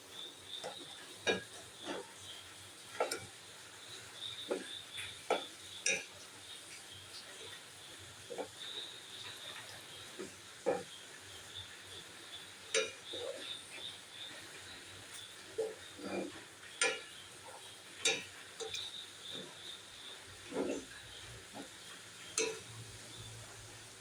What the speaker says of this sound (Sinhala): මම දැන් මේක හැඳි ගන්නවා.